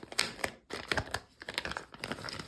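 Plastic packaging bag crinkling while a DJI Osmo Pocket 3 with its protective case is unboxed. Close, irregular rustles and crackles come in bursts with short pauses between them.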